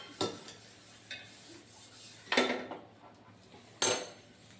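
Jaggery syrup for chikki being stirred in a pan, with a few distinct scraping, clinking strokes of a utensil against the metal and quiet gaps between them.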